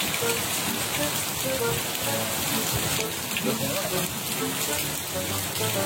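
Steady heavy rain patters on a surface in a continuous loud hiss, with no breaks across the whole stretch.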